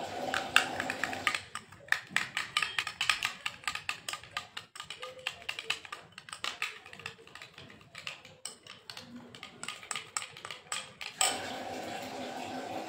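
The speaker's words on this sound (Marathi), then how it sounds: "त्यानंतर साखर आणि हे छान मिक्स करून घेणार आहे" A spoon mixes curd with salt and sugar in a bowl, giving a close, busy run of quick clinks and taps against the bowl with short pauses.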